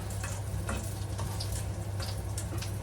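Quiet, dry sizzle and faint ticking crackle from a pan heated with no cooking oil, a low steady hiss with a few small pops throughout, nothing loud and no speech.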